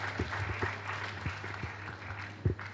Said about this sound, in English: A round of applause again for him, please